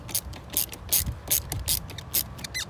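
Ratchet tightening a car battery terminal clamp, its quick metallic clicks coming in short, uneven bursts close up and fairly quiet.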